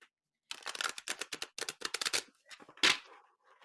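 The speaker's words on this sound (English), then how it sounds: "the deck is super hard to shuffle." Thick, stiff True Black Tarot cards being shuffled by hand up close, a rapid burst of crisp riffling snaps and flicks followed by a louder slap and a few quieter taps.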